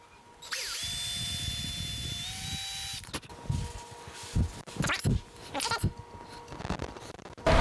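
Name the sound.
power drill with 1/16 inch bit drilling a hole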